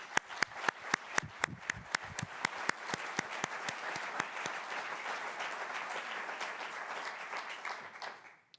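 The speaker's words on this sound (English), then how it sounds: "Let's give him a round of applause." An audience at a university distinguished awards ceremony applauds an award recipient: a few separate claps at first build into steady, full applause that runs on and then tapers off at the end.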